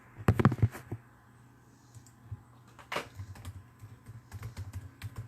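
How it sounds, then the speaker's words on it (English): Two-handed typing on a computer keyboard, close and fairly quiet, with a quick burst of keystrokes at the start, then scattered clicks and short runs of taps in an uneven rhythm, no talking. "Just bear with me while I use both my hands to type."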